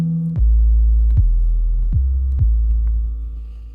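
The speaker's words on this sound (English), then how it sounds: "we'll hit bass, and we'll see deep 808" A deep 808 bass preset in an iPhone music-making app plays four booming low notes in a steady rhythm, each a sustained sub-bass tone with a short attack, loud and alone with no talk.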